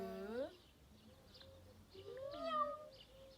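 A human voice imitates a cat's meow twice, drawn-out rising and falling calls separated by a short pause, near and fairly quiet.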